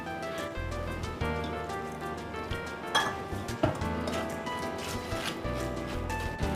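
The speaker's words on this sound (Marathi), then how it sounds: "हे बघा, आता ह्यात आपल्याला थोडं थोडं दूध टाकून घ्यायचं आहे।" A spoon clinks and scrapes in a bowl as banana pancake batter is mixed with milk, a run of light, irregular taps close by at a low level.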